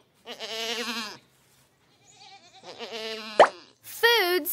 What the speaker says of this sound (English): Male goat, a buck or a billy.